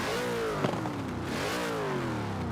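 Car engine in the Forza racing game revving with a slightly odd tone, a steady nasal drone whose pitch rises and falls smoothly over a couple of seconds, heard alone.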